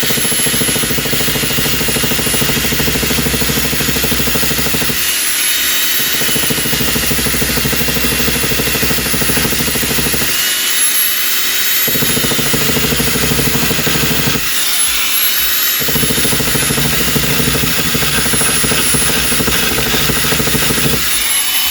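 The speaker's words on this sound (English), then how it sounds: "So I'm going to buzz that with a belt sander." A loud belt sander grinds continuously against a Citroen C1 windscreen, a harsh, buzzing roar that briefly drops off a few times before surging back.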